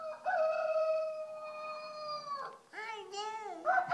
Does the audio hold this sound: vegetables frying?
no